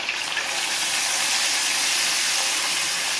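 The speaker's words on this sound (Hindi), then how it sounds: "इस तरह धीरे धीरे कुक करेंगे हमारा फिश को।" Fish cooking slowly in a pan of shallow oil over a low gas flame, giving a steady, even frying hiss close by with no voices.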